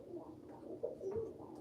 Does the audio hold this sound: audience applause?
no